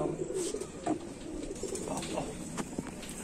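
Pigeons coo in a loft, soft repeated throaty calls over a steady background murmur, with a few faint chirps and no one talking.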